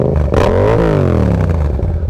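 A 2018 Yamaha XSR700 motorcycle with a Two Brothers SR1 exhaust system revs loudly up close, its rumbling engine note rising and then settling into a steady throaty drone.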